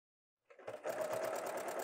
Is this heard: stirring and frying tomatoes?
no